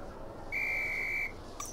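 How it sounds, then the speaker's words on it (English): A single steady referee's whistle blast in a PS1 Harry Potter flying game, clear and sustained for under a second over quiet background, followed by a faint short chirp. "On my whistle, then."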